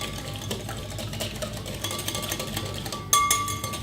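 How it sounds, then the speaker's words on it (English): An egg is whisked into melted butter for low-carb ANZAC biscuits, with a whisk rattling quickly and rhythmically against the bowl, close and steady. "And whisk that together."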